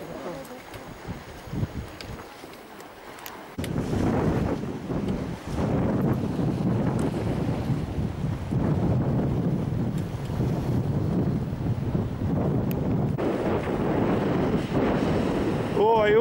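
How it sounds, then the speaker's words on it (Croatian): Bura wind gusts along the rocky coast near Baška on Krk, a rough, roaring buffet against the microphone that starts softer and swells into a sustained loud blast, with people talking intermittently beneath it. "Uvali je bura nešto slabija, ali kad dođemo na stranu prema Velebitu, na otvoreno, onda će biti malo žešća."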